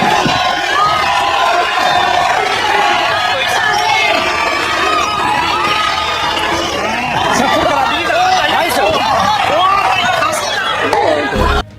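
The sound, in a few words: boxing crowd cheering for Shimooka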